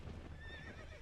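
Roach, a horse in The Witcher 3 video game, gives a brief whinny, with a soft clip-clop of hooves underneath.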